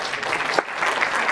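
An audience at the International Mother Language Day and Interculturality Awards 2023 ceremony applauds steadily, a continuous close burst of clapping.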